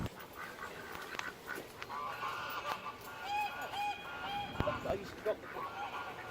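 Several birds at a garden bird feeder call in short honking, quacking notes, a scattered cluster of calls at moderate distance over steady outdoor background noise; no speech stands out.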